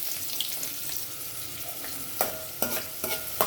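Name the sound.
cumin and onion frying in hot oil for tempering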